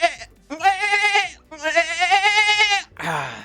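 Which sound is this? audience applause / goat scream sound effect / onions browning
goat scream sound effect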